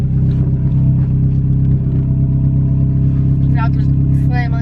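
Beater car with a manual transmission idling and pulling away, a loud steady low engine rumble close by, with people talking over it.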